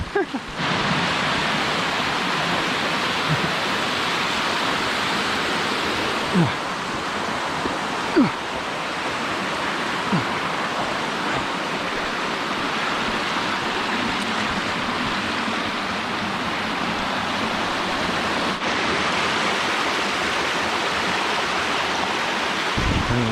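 A mountain stream in the Adirondacks, near Santanoni and Ermine Brook, rushes steadily over rocks, a broad, close, continuous wash of flowing water with no speech.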